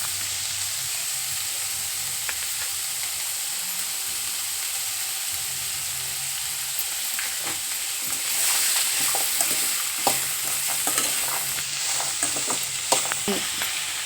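Cabbage and mixed vegetables sizzle and sauté in a pan while a spoon scrapes and stirs them, a steady frying hiss with louder stirring clatter toward the end and no talk.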